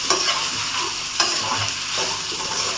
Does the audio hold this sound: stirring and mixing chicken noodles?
yes